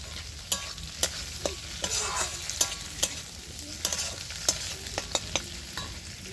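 Shrimp frying in a pan while being stirred and cut with a spatula, a continuous sizzle broken by sharp, regular metal scrapes and taps about every half second.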